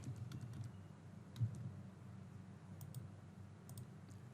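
Faint, scattered key clicks on a computer keyboard while a review is typed, soft taps over a steady low hum.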